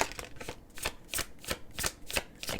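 Tarot cards being shuffled by hand, a quick run of crisp riffling bursts repeating in a steady rhythm, close and fairly quiet with no voices.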